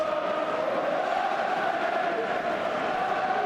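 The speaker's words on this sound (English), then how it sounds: "Crowd have found their voice." Stadium crowd at an Ulster v Munster rugby match, a steady dense roar of massed voices sustained throughout without clear individual calls.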